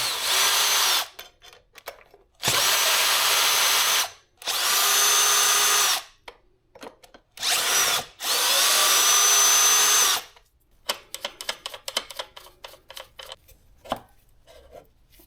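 Power drill loosening four 10 mm bolts on a Honda Transalp motorcycle wheel during a tubeless rim swap. Several loud, close whirring bursts of a few seconds each are separated by pauses, followed by clicks and handling rattles.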